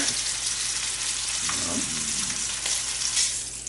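Lamb shanks searing in hot olive oil in a pan, a continuous loud sizzle with scattered sharp pops and spatters close by.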